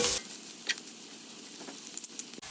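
Leeks and onions sizzling in a pan, a soft steady frying crackle with a few light stirring clicks and taps, close and moderately quiet, no talking.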